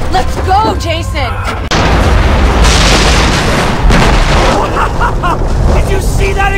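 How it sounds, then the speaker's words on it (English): Explosion in the video game Far Cry, a loud sustained booming blast roaring for several seconds right after a brief stretch of game sounds. "Did you see that explosion?"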